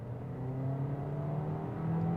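A 2022 Toyota Corolla Cross XLE AWD at full throttle from inside the cabin: a steady engine drone climbing slowly in pitch as the car gathers speed, with no talk over it.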